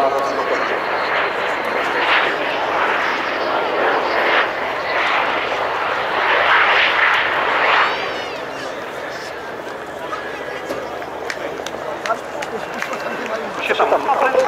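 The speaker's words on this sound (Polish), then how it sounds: "Jest to wersja polska tego samolotu, przystosowana na rozwój." A airplane's engine roaring as it flies over at the Radom air show, a loud steady drone for several seconds that then eases and thins out, with crowd noise in the background.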